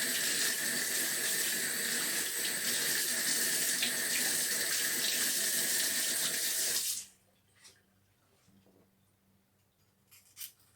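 Celery rinsed under a running kitchen tap gives a steady, loud splashing rush for about seven seconds before the water stops abruptly, leaving quiet handling noises and a few small knocks.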